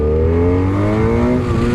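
A 2017 BMW F800R parallel-twin motorcycle engine revs hard and climbs in pitch, loud and close, with a steady droning roar and no voices.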